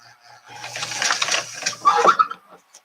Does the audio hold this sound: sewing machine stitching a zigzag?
yes